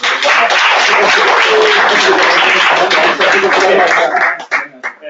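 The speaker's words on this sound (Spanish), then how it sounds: "Estoy gritando, un aplauso, cojones" Applause and cheering fill a round-table panel session at a Madrid game jam, a dense, loud wash of clapping from a crowd that holds steady for about four seconds before thinning into scattered claps at the end.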